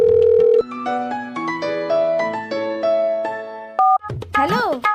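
A telephone gives a rapid series of tones and beeps, loud and close, before a voice cuts in near the end.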